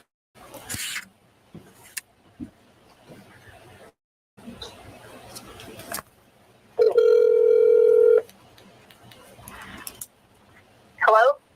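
A telephone handset gives a steady dial tone followed by short beeps of a number being dialed, with faint background voices and handling noise in the gaps around it.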